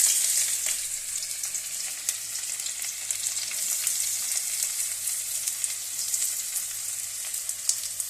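Onions frying in hot oil in a kadai on a gas stove, giving a loud, dense, continuous crackling sizzle with no voices.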